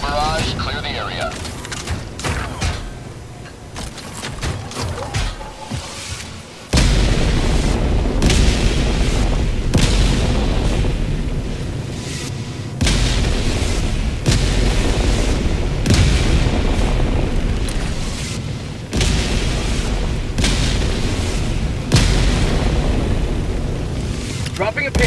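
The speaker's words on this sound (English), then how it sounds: "Firing orbital barrage, clear the area." Orbital barrage shells strike in the Helldivers video game, a series of loud, booming explosions landing one after another at irregular intervals, each with a sharp onset and a rumbling tail, alongside game sounds.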